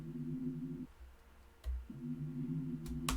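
A sub bass line EQ'd to roughly 147–310 hertz for a drum and bass track hums in two sustained low tonal notes separated by a short gap, with faint clicks in between.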